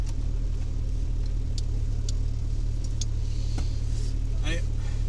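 A racing car idles with a steady low engine rumble at a historic hill climb in Ceyreste, heard close and constant while people talk over it, with a few brief sharp noises scattered through.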